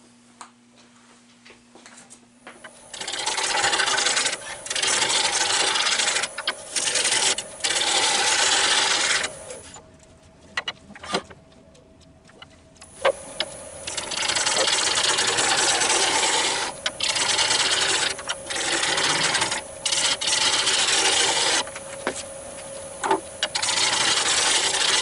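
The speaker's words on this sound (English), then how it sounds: "we'll turn a long spindle, which will be the cane from Jurassic Park" A long wooden spindle spins on a lathe as a cane is turned, giving a loud, sustained hissing scrape from the cutting tool that stops briefly several times and pauses for a few seconds near the middle.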